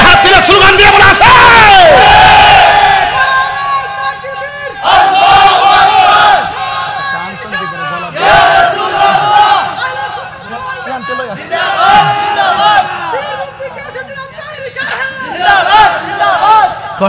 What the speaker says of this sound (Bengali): এই দুই হাত তুলে স্লোগান দিয়ে বলা আছে